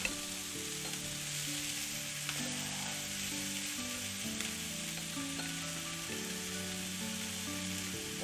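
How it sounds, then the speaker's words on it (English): Leafy greens sizzle steadily in hot, shimmering olive oil, a dense continuous hiss that holds evenly throughout, with a tonal background running underneath. "So I'm just gonna go ahead and dump the rest of my greens into my olive oil here."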